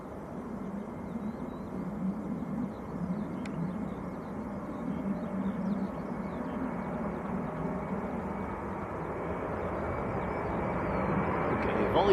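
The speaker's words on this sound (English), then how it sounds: "Aer Lingus to New York, A330 on the roll." Aer Lingus Airbus A330 jet taking off for New York at Manchester Airport, a steady low engine roar that builds gradually in loudness over the clip, heard from a distance with no clear talk over it.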